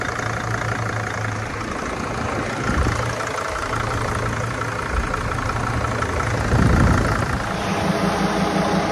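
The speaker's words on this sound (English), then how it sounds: "Exhaust note is definitely a bit different." A camper van engine idles steadily nearby with a low, even exhaust note and a faint whine on top, rising briefly in loudness near the end, with no talking.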